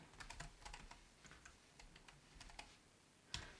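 Fingers typing on a computer keyboard, a soft, quiet patter of irregular key taps with a slightly firmer stroke near the end, no voices.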